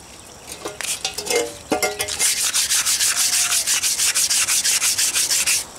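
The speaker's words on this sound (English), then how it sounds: "the wet sanding is where it will take off some of your black or your dark rust spots" A tobacco pipe is wet sanded with fresh 220-grit sandpaper, starting with a few scattered scrapes before settling into fast, even back-and-forth rubbing strokes, close and steady.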